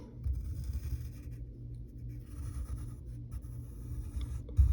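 Pencil sketching on paper while drawing the rim of a cartoon truffle, a steady soft scratchy rasp of graphite strokes running continuously, close and quiet, with no talking.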